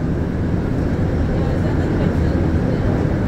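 Montreal Metro MR73 train running, a loud steady low rumble and roar of the rubber-tyred subway car in motion, heard from inside, constant throughout.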